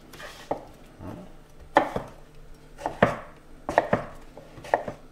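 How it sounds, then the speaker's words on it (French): A knife chops zucchini into fairly large cubes on a cutting board, with about a dozen sharp, separate thuds at an uneven pace, heard close up with no talking. "On va découper des cubes pas trop petits non plus, parce que comme on va la faire cuire, la courgette"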